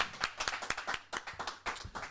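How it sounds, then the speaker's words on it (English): A single person claps steadily for about two seconds, brisk and close, as a round of applause at an informal live stream. "Round of applause for DreamCon Creator League."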